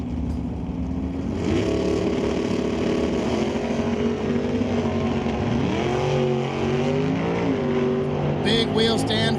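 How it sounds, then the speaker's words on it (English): Super Stock drag racers, including a factory Chevrolet Cobalt and an automatic station wagon, launch at an NHRA Canadian national event. The engines roar loud and steady throughout, with rising and falling engine tones as the cars accelerate. "The factory GTD Cobalt of Ty Gaynor right-hand side is going to try to chase down Olsenowski."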